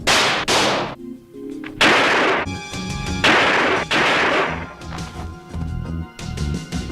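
Gunfire from an action scene in the movie Samurai Cop: several loud, sharp shots and bursts fired at irregular intervals, some crashing and echoing, close and prominent with no talking.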